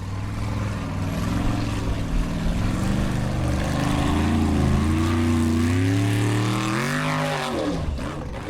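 Formula Offroad car engine at an Icelandic off-road competition in Akureyri, 2020: a loud, droning roar whose pitch climbs and dips as the car powers through, swinging sharply in revs near the end.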